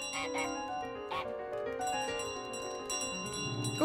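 Small bell carried by the goose in Untitled Goose Game, jingling in a few quick clusters over light background game music, moderately close and fairly soft.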